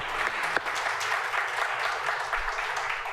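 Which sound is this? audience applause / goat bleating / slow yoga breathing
audience applause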